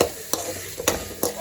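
Tomatoes sautéing with ginger garlic paste for wheat rava biryani, a soft steady sizzle broken by three sharp spoon scrapes against the pan at even intervals.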